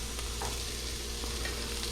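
Onions browning with dried chili strips in a pan make a soft, steady sizzle, fairly quiet and continuous, with a faint scrape of stirring now and then.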